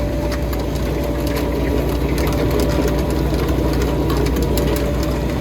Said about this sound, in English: You see the beet being spun on the turbines, that's trying to spin out any dirt or any less tops